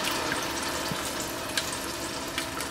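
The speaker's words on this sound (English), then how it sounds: "now we are going to add this tomato and processed fried onions back in the oil to make our curry for meatballs" Tomato and processed fried onions going into hot oil for a kofta meatball curry, giving a steady loud sizzle with faint stirring clicks.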